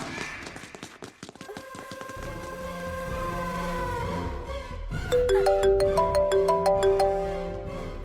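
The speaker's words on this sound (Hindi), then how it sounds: "लगता है उसी का फोन है।" A phone ringtone plays with a bright, repeating electronic melody, following a busy stretch of clip-clopping hooves and commotion in a dubbed South Indian action movie scene; the ringing is loud and close, with no talk over it.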